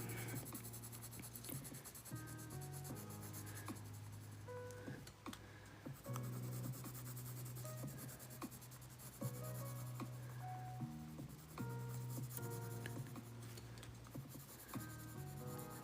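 A Prismacolor colored pencil scratches across paper in steady, continuous coloring strokes, heard over background music.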